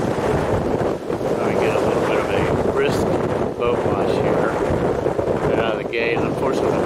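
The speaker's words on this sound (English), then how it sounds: "the wind's right on our nose as well, but that's not so bad" Strong offshore wind buffets a sailboat in the Georgia Gulf Stream, a steady roaring rush with microphone wind noise and water hiss that holds loud and continuous throughout, with no pauses.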